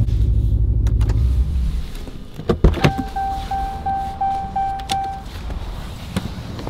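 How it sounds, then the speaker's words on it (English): Someone climbs out of a black widebody Dodge Challenger Hellcat: a door thunks and clicks amid idling engine rumble, followed by a repeating electronic chime and a few sharp knocks. "just getting out of my black wide body Hellcat"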